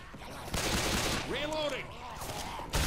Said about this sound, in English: Zombies taking a lot of bullets.